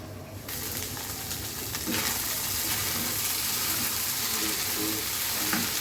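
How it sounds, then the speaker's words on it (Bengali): Goat brain frying in oil with salt and turmeric, a soft steady sizzle that starts after a brief quiet moment and runs on evenly, fairly faint with no talking. "আমি তেলের মধ্যে লবণ আর হলুদ দিয়ে ঘিলুটাকে ফ্রাই করে নিয়েছি"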